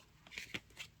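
Tarot cards being shuffled by hand, giving a few soft, brief riffling bursts close by at low volume with no talking.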